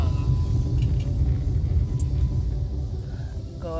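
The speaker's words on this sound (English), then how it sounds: "And Jeannie Bean is in the car with me." Steady low road rumble inside a moving car on a short errand drive, continuous and fairly loud with no talking.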